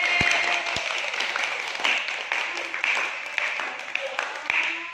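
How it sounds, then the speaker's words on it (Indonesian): A small group at a group counseling session claps hands together, a few seconds of uneven, fairly close clapping with individual claps standing out and a faint voice underneath. "kita tepuk tangan dulu ya"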